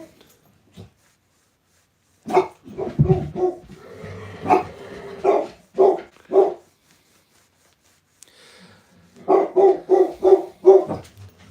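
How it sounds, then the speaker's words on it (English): A chihuahua barks in two bursts of rapid, sharp yaps separated by a pause, close and fairly loud with some quieter whimpering sounds between the barks. "This big bark for a little chihuahua"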